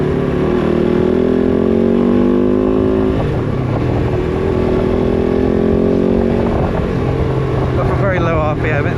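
A KOVE 450 Rally motorcycle engine held at very low RPM gives a loud, close, uneven droning hum that sags and recovers. A voice briefly speaks near the end.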